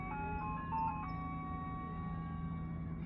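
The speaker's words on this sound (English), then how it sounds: "Sorry if you guys can hear this ice cream truck driving by playing Beethoven." An ice cream truck passes by playing a Beethoven melody as a steady electronic chime tune, sustained tones over a low engine hum, fairly distant and continuous with no one talking.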